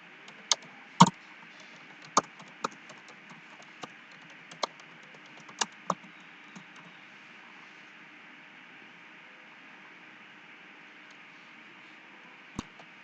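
A computer keyboard is typed on with scattered single key clicks over a steady faint hiss, quiet and sparse, with long pauses between presses.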